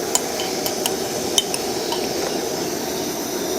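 Rice flour being stirred into water in a pot to make dough for crispy potato bites, a steady soft scraping swirl with a few light utensil clinks against the pot, close and continuous with no talking.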